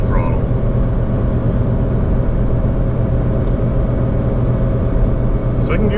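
A pickup truck engine accelerates hard in second gear, a steady, loud, continuous drone heard from inside the cab that holds its pitch throughout, with a voice talking faintly beneath it.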